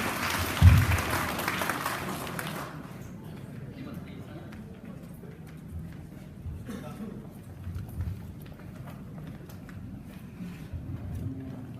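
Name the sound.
audience applause for the keynote speaker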